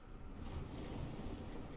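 Steady ocean waves wash onto a beach under constant wind in the game What Remains of Edith Finch, a dense, even roar with no voices.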